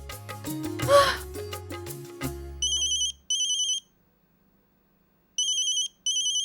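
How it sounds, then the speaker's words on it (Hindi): A telephone rings late at night in a Hindi TV drama, its electronic ringtone sounding in loud repeated bursts with pauses between them after a few brief household sounds. "ये इतनी रात को किसका फोन आया?"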